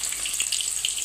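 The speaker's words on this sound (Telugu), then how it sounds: "స్టవ్ మీద కడాయి పెట్టుకొని అందులో కొద్దిగా ఆయిల్ వేసుకొని, ఆయిల్ కొద్దిగా వేడయ్యాక అందులోకి ఉల్లిపాయ ముక్కలు" Onion pieces dropping into lightly heated oil in a kadai give a steady, fairly loud hiss and sizzle for the whole second, alone with no voices.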